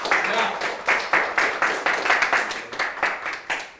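Congregation clapping in a church service, a steady run of rhythmic handclaps close by, loud and continuous for a few seconds with no talk over it.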